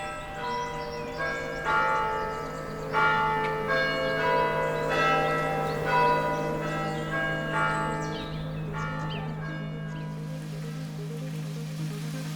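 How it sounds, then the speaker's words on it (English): Church bells in the town of Swaffham ring out in a steady sequence of resonant, overlapping strikes over a constant low hum, fading to a lingering decay near the end; no voices. "Swaffham sounds like the church bells every"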